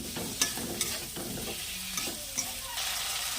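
Four green chillies sizzle in oil in a pan for a vegetarian banana-flower curry, with soft scraping stir strokes and a few sharp clicks of the spoon against the pan under a continuous hiss.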